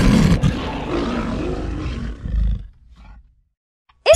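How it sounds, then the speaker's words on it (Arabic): A lion's deep, loud roar rumbling for a couple of seconds, then tailing off into quieter grunts and silence, heard alone without talk. "ويمكن سماع صوت زئير الأسد من على بعد 8 كيلومتر"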